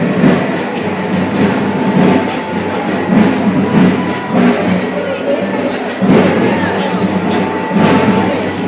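A metro train rumbles steadily through a station, with a rolling clatter and rising bursts of noise, and some crowd or voice murmur underneath.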